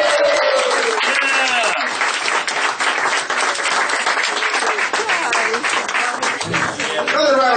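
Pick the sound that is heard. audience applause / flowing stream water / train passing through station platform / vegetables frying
audience applause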